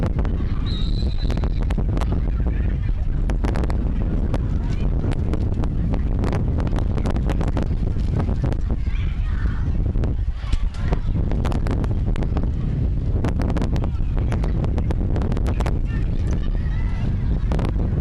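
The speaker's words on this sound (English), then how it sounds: "Very, very windy out here tonight." Strong wind buffets the microphone in constant gusty roars at a night high school football game, with voices talking underneath throughout.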